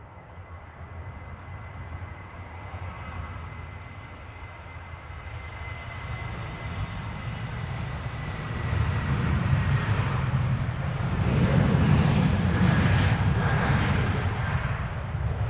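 Silk Way Boeing 747 at Stansted Airport, a broad engine roar that starts moderate and swells louder in the second half as the jet draws closer.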